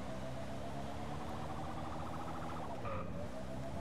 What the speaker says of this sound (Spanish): qué guapo el sonido del coche, es como relajante, ¿eh?